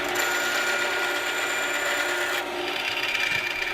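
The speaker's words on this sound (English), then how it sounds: "After drilling a couple of screw holes" A power drill bores screw holes into the wood of a cigar box amplifier build, giving a steady close grinding whine that drops slightly in pitch partway through, with no talking.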